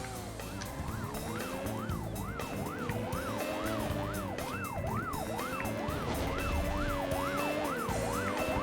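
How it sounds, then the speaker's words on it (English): A police siren in the PS1 racing game Need for Speed: Porsche Unleashed wails in a steady, repeating up-and-down cycle over a continuous engine drone, loud and unbroken with no talk. "Oh no, I can hear the police"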